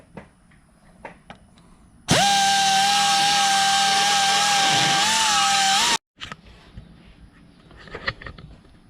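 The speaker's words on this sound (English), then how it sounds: "there's the weapon of choice, little angle grinder, air-powered angle grinder" Small air-powered angle grinder cutting an F-150 front bumper bracket, a loud steady high whine lasting about four seconds that dips slightly under load before cutting off, with quieter workshop clatter around it.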